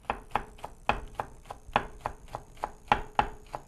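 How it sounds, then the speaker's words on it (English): A knife cutting a whole leafy ingredient into very thin chiffonade slices, a steady series of crisp, close chops striking the board about every third of a second, with no talk. "cut very thin slices like that"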